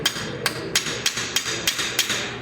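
A hammer taps lightly and repeatedly on a car starter part during a repair, about seven evenly spaced metallic strikes roughly every third of a second, close and clear with no talk.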